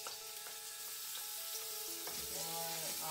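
Garlic sizzling in a pan, a steady hiss under some tonal ringing, played alone and not loud.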